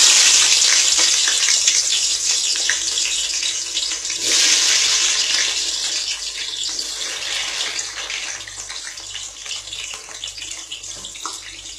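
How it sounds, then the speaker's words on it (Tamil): Onions dropped into hot ghee, a loud bright hiss that swells at the start and again near four seconds, then settles into a steadier, fading sizzle with no talk. "ஆனியன் வந்து நல்லா ப்ரௌன் ஆகிற வரைக்கும் வதக்கணும்"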